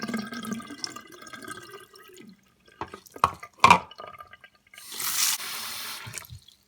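Water is poured out of a container of sprouting water spinach seeds, giving scattered drips and short splashes followed by a louder, sustained rush of pouring near the end, close and fairly quiet.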